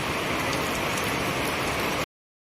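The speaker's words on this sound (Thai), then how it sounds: "ฝนตกคักตอนนี้นะครับ" Heavy rain pours down in a dense, loud, steady hiss that fills everything for two seconds before stopping abruptly.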